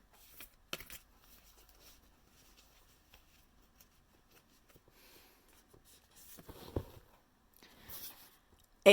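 Faint, soft papery riffles and flicks of playing cards being shuffled and handled, scattered and quiet, with a few louder snaps near the end.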